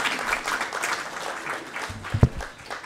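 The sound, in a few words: applause for Ambassador Amy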